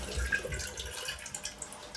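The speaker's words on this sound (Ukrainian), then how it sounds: "Я тобі покажу, де вода іде." Water runs out of a gas pipe in a home kitchen, a soft, steady trickle with faint irregular drips, quiet and close, with no talking.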